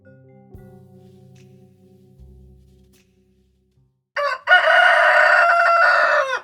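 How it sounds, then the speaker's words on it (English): A rooster crows loudly and at length near the end, after a stretch of low hum and quiet rumbling. "we're in the middle of a crow off."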